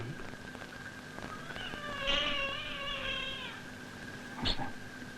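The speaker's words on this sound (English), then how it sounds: "He's meowing to be let in." A cat meows to be let in: one drawn-out wavering meow followed by a short sharp cry, heard indoors in a 1964 television drama over faint background hum.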